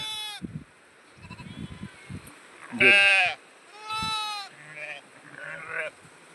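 Goats bleat several times in a village farmyard, loud and close, with harmonic, wavering calls separated by short pauses and low human voices murmuring underneath.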